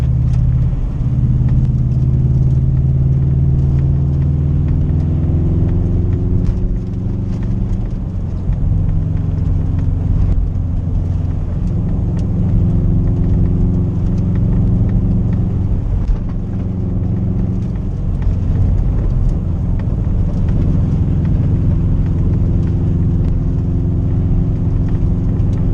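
A 2013 Subaru WRX drives a snowy back road, its engine a steady, close low rumble with small swells in revving throughout, and no talking over it.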